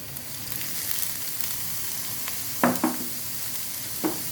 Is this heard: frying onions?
yes